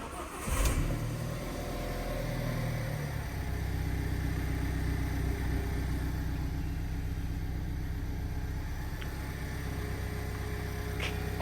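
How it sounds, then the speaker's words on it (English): An Alfa Romeo Giulietta with a TCT gearbox, just back from a gearbox and clutch repair, starts with the key: a brief crank and catch, then a steady close idle that holds with no talking. "Last thing we have to do is turn the key, make sure there's no weird noises coming from the gearbox"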